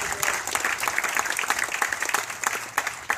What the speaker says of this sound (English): So please give yourselves a big round of applause again